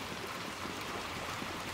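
Steady rain falls in the dark world of the video game Little Nightmares II, a continuous soft broadband hiss and patter that runs unbroken and even throughout, with no speech over it.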